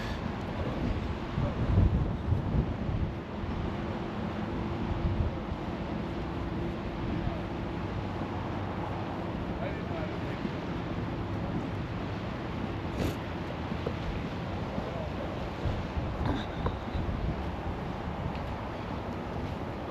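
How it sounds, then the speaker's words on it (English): Strong, cold wind gusting outdoors at an eroded coastal roadside spot, a steady broadband rush buffeting the microphone for the whole stretch with brief louder gusts. "It's so windy. It's so windy and cold, guys."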